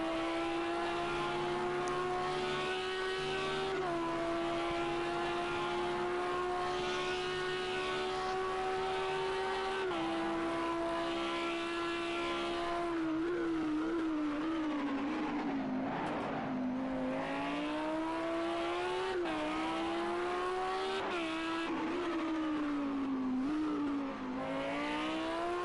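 A race car engine hums at a steady pitch at Circuit of the Americas while the car is being recovered, the tone then wavering and dipping as it moves slowly. The sound is continuous and moderately distant, with no voices.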